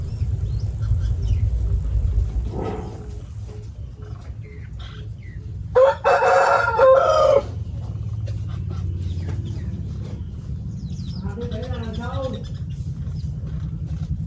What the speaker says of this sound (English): The birds have settled into a rhythm.